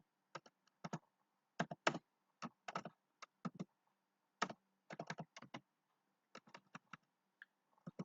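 Code is typed on a computer keyboard in irregular bursts of crisp, close keystrokes separated by short pauses, with no talking.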